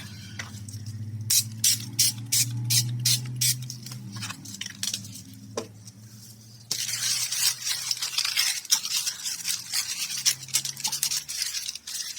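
Red color mist sprayed from a small bottle onto rolled paper ribbon in a rustic craft project: a run of quick, sharp spritzes, then a longer steady hiss of spraying, close by with no talk.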